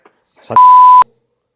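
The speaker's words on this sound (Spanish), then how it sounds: "voy a llamarle" A single sustained electronic tone sounds on a phone line while placing a call, loud and steady for about half a second before cutting off.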